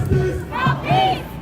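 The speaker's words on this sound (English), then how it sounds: "The crowd quickly grew here, big enough to take the streets, and then it has turned into a march" A street protest crowd for Palestine in Minneapolis, grown into a march, raises loud massed shouts and chanting voices in several swelling bursts, close and dense.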